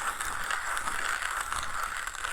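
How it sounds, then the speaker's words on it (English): Slow hand grinding of coffee beans for espresso in an OE Lido OG manual grinder held in the lap, a steady close ratcheting, gritty crunch running continuously without pauses. "I can grind extremely slowly."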